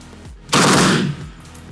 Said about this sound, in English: let's continue shooting and see if we can finish this mag without any issues